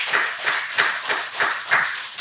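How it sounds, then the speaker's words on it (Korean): A church congregation applauding at a worship service, a short burst of brisk, fairly even clapping from many hands in a room. "우리 박수 한번 합시다."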